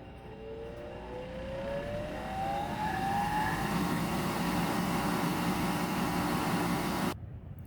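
A laboratory centrifuge spins a blood sample, its whine climbing as it spins up and then settling into a loud, steady whir that cuts off abruptly near the end.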